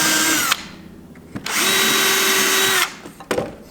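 A power drill pre-drills cabinet parts for a wooden bookcase, sounding as two close, loud whirring bursts separated by a short pause and a few knocks.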